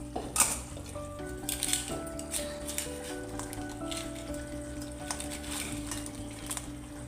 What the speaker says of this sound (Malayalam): അതുകൊണ്ടാണ് ജസ്റ്റ് ഒന്ന് ഫ്രൈ ചെയ്യുന്നത്